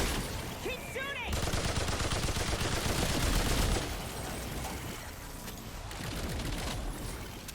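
Rapid gunfire from a firefight in the video game Remnant 2, a dense, continuous rattle of shots that swells louder mid-clip, with scattered explosive impacts and voices shouting beneath the din.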